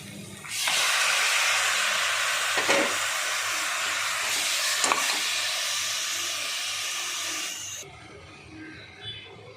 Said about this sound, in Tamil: அப்படியே மட்டனையும் போட்டுக்கலாம். கொஞ்சம் கிண்டலாம்.